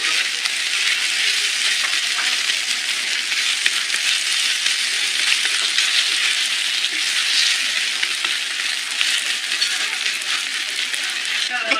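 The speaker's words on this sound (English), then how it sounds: "The chicken fried rice pancake has been sizzling away for about a minute" A flattened chicken fried rice pancake sizzles steadily in a hot pan, a continuous close crackle and hiss with small pops scattered throughout and no talking.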